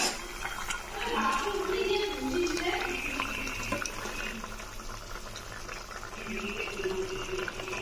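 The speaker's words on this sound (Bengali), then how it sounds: "ঝোল ফুটে গেছে" Fish curry broth for a shing fish and potato dish boils in a covered pot, a steady bubbling wash that carries on throughout with some louder gurgles early on and faint voice-like murmurs mixed in.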